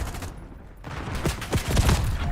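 Bursts of rapid video game gunfire fired at a high-value target during a multiplayer match, crackling volleys that build and grow louder toward the end.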